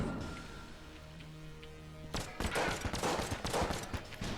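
Rapid gunfire from The Gungeon breaks out after a quieter stretch of game music, a dense run of loud overlapping shots lasting about two seconds to the end.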